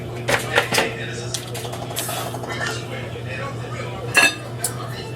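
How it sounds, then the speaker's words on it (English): Shrimp shells dropped into a cooking pot for pho broth, giving a few sharp clinks and clatters of metal and utensils, with a louder cluster of knocks near the end over a steady low hum. "I'm going to put the skin or the shell from the shrimp into my pot for the extra flavor."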